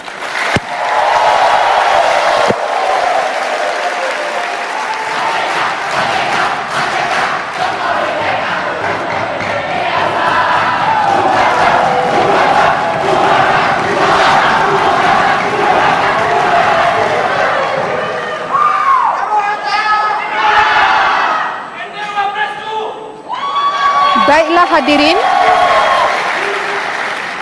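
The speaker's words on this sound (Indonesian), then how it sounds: "terima kasih atas tepuk tangannya" Loud, sustained applause and cheering from a crowd at a 2014 Indonesian vice-presidential debate, filling the hall for many seconds before a presenter's voice speaks over the fading clapping.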